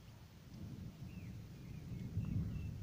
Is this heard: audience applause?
no